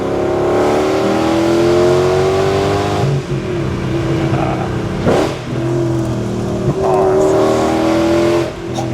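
A V8-swapped Audi revs hard under acceleration, its engine note climbing loud and close through several gear changes with brief dips between pulls.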